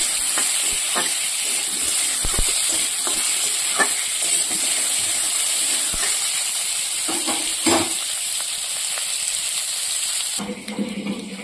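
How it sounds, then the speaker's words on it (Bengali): Potatoes fry in hot oil with cumin for a fish curry, a constant loud sizzle punctuated by scattered clicks and scrapes of stirring, with the hiss dropping abruptly near the end. "এবার মাছের ঝোলের জন্য আলুটাকে একটু ভেজে নেব।"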